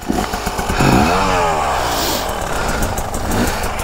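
A brand new KTM 300 two-stroke dirt bike engine revs up hard and stays at a high, buzzing pitch, loud and close, with the rising and falling whine of the throttle being worked.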